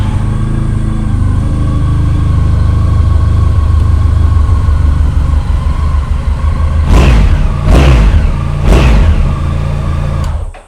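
A Honda V4 1200cc motorcycle engine runs at a steady, loud idle close by, with a few sharp blips of the throttle near the end.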